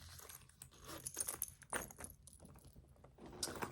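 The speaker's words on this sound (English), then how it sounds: "I have my extra set of keys in this little inclined pouch. So, I got my keys down in there." A set of keys jangles inside a small tote-bag pouch, with close, bright metallic clinks and rattles in irregular bursts throughout.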